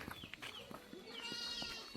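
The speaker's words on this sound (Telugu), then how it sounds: "చెట్టే ఎక్కుతుంది మేక డైరెక్ట్" A goat in a tribal village in the Maredumilli forest area gives several short, wavering bleats in quick succession, fairly close but not loud, with faint rustling and background noise between the calls.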